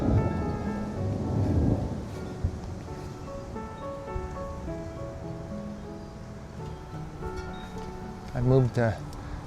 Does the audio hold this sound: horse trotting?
no